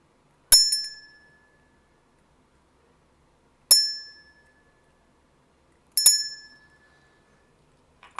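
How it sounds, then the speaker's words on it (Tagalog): Three bright, clear bell dings ring out alone against silence, each decaying quickly, spaced a few seconds apart, with a faint fourth strike starting at the very end. "Pag tumunog ang bell, banggitin nyo lang ang pangalan niya."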